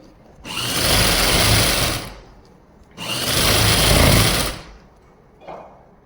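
A sewing machine stitching Afghani trousers runs loud and close in two sustained bursts of rapid whirring, each about one and a half seconds, then gives a brief short spurt at the end.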